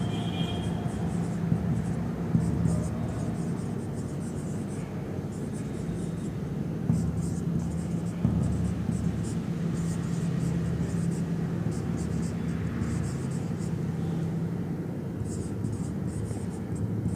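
Pen or marker writing words, a soft continuous scratching with repeated short strokes under steady background hiss, close and quiet.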